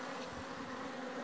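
Bees in a honey-producing hive out in the brush, a dense continuous buzzing swarm heard close and steady for a brief moment, with no voices.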